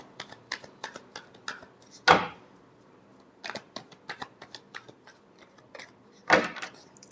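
Tarot cards being shuffled by hand: a run of light, crisp clicking taps broken by two louder, rushing riffle bursts, close and with no one talking.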